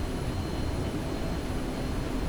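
DHC-3T Turbo Otter turbine engine spinning up before light-off, a steady broadband whooshing roar with faint high whine, continuous and fairly loud throughout.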